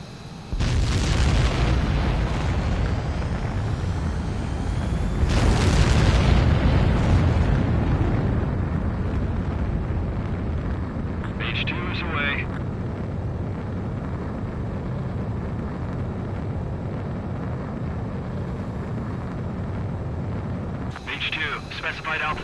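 A jet fighter taking off in the flight game Ace Combat 7: a loud, steady engine roar builds and swells into a deep surge partway through, under radio-style voices.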